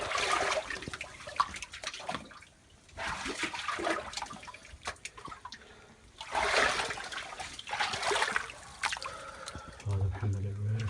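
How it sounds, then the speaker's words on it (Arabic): A farm spring pours out water in a continuous rushing, splashing flow that swells and eases, with people talking nearby. "طالع الماء ما شاء الله"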